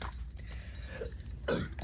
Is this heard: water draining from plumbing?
no